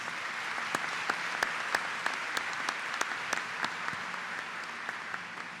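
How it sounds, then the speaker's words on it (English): Commencement audience applauding the Board of Trustees in a large hall, sparse but steady clapping with distinct individual claps popping out, fairly distant. "please join me in a round of applause for our Board of Trustees"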